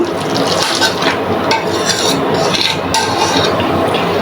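Boiled wheat being stirred into thickened milk in a pot, a continuous scraping and sloshing of a spoon against the pot's metal sides, close and steady.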